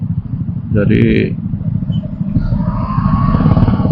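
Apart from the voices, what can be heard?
motorcycles and cars at a red traffic light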